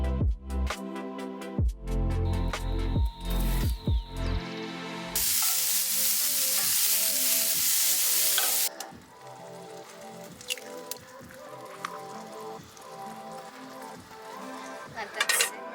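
Breakfast of fruits and vegetables sizzling and simmering in a pan in Colombia, bursts of clattering utensils and stirring first, then a loud steady hiss that settles into softer bubbling with occasional spoon taps.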